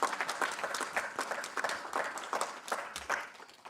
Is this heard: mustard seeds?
no